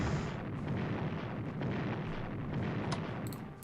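Artillery bombardment in the WWII strategy game Strategic Command: rumbling, fairly quiet explosion noise rolling on steadily for a few seconds with no talk.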